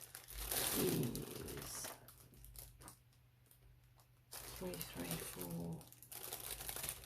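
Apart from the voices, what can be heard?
crinkling of a plastic bag full of packets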